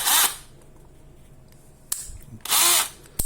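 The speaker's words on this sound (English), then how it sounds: "so I can get the hammer drill." Black+Decker Matrix MultiEVO hammer drill running in two short loud bursts, close up, with mechanical clicks and handling between them.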